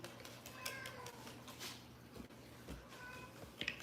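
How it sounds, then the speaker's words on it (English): Faint, soft cat meows, a couple of short calls, in a quiet room with light background movement. "Someone's cooing and meowing."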